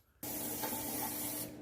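An aerosol can of sealant sprays in one steady, loud hiss lasting over a second on a 1978 Honda Civic that sat unused for 26 years, close to the microphone with no talking.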